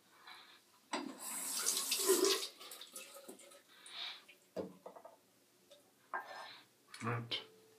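Tap water runs into a sink while someone rinses their face after shaving, with a louder gush early on, then intermittent splashes and short bursts of flow, close by.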